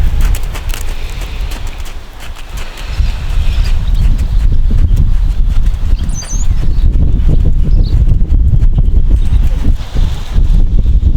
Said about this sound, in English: take up a little smoother trot there, or a jog, as a lot of people call it in quarter horse world